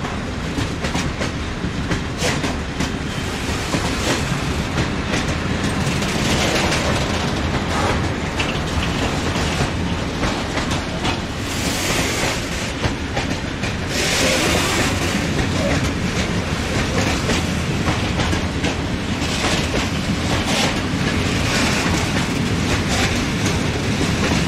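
A train rolls through Katowice railway station, its steady loud rumble and clickety-clack of wheels on rail joints filling the whole stretch, with faint voices now and then underneath.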